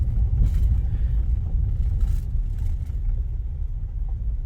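A car rolling slowly along a flooded road through Georgia woodland, a steady low engine and tire rumble heard from inside the vehicle with faint splashing and no talk.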